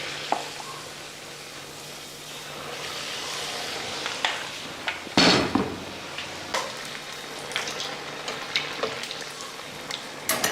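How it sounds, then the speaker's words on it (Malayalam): Chicken bonda balls coated in batter drop into hot coconut oil and deep-fry, a steady close sizzle with a louder splash of bubbling as they go in, then crackling pops scattered over the hiss. "ഇനി അത് നമ്മൾ ഉണ്ടാക്കി വെച്ച ബാറ്ററിലേക്ക് ഇട്ടിട്ട് എണ്ണയിൽ വറുത്തെടുക്കണം"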